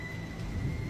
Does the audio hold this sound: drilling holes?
no